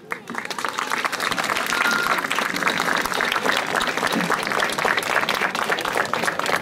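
Audience applause at a sailing event on the Bay of Puck, a dense steady wash of many hands clapping that holds at an even, fairly loud level throughout with no talk over it.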